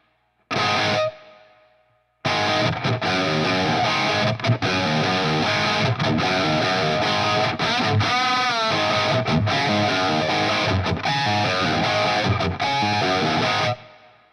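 A distorted electric guitar plays riffs through a ToneX amp model with its built-in reverb, a loud, dense stream of chugging chords and bends after a short opening stab, stopping abruptly.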